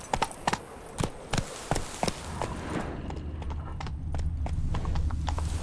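Roach, Geralt's horse in The Witcher 3: Blood and Wine, gallops with rhythmic, crisp hoof clip-clops that fade into a rising wind-like rush and softer, more distant hoofbeats.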